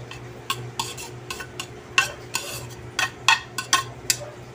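Grated melon spooned into a small container for fresh melon juice, giving a run of soft scraping and clinking sounds, a dozen or so brief taps of utensil against the container over a steady low hum, with no talk.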